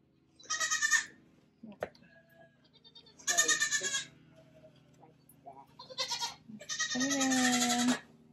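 Several goats bleat in turn, loud and close, with short wavering cries separated by brief pauses and a soft background hum, at feeding and milking time.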